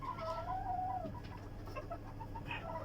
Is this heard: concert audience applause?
no